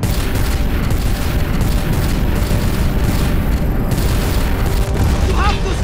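Heavy weapons fire pounds at the Celestial in the Guardians of the Galaxy video game, a dense, continuous barrage of booms and blasts filling the scene with loud, sustained roar.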